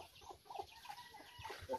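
Chickens and chicks clucking softly around a newly built coop, scattered short calls at a faint, moderate distance.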